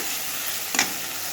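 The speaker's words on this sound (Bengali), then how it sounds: "মশলাটা এখন লাল করে ভেজে নেব" Spice paste frying in oil with a steady sizzle and a short scrape of stirring midway.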